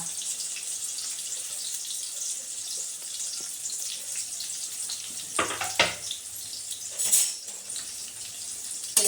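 Garlic, green chilies and curry leaves fry in hot oil for a fish curry, giving a steady hissing sizzle broken by a few clattering stirs near the end.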